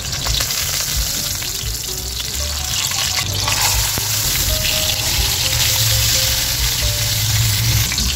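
Tilapia fries in a pan of hot oil with a loud, steady, crackling sizzle that continues without a break.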